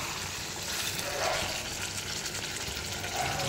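A little water splashed into hot oil with meat gives a dense, steady sizzle that fills the whole moment at an even, moderate level, with no voices over it.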